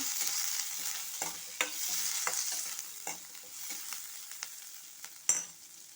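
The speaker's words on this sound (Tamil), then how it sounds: "வெங்காயம் பூண்டு பச்சை மிளகாய் எல்லாத்தையும் நல்லா வதக்கிக்குங்க" Onion, garlic and green chili sautéing in a pan after cumin, a soft, close sizzle broken by regular spatula scrapes and taps, with one sharper clank near the end.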